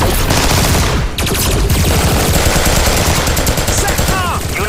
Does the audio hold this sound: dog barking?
no